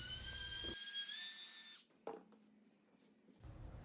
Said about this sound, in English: To make the cove, I used this Freud 3/8 radius round nose router bit.